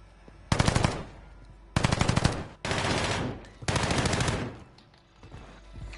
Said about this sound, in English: decoy grenade out!